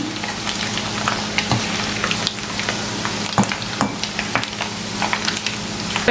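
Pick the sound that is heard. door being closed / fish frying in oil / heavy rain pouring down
fish frying in oil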